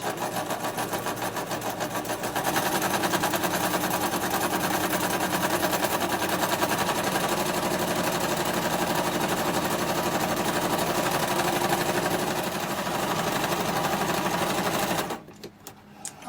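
Sewing machine stitching along the top edge of a fabric tote bag, a quiet start then a steady loud whirring run of about thirteen seconds that stops abruptly near the end, with no voices.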